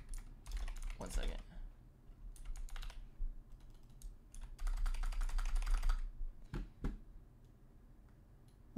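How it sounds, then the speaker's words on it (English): Loud, clattering typing on a computer keyboard in bursts of rapid keystrokes with short pauses, close to the microphone during an online gaming session. "What are you typing so loudly?"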